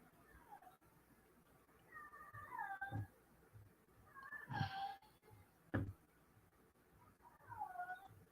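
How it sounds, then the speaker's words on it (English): Two cats, a female in heat and a male, trade drawn-out wavering meows and yowls, quiet and somewhat distant against a low background hum, with several separate calls spread across the stretch. "Sounds like these darn cats are talking."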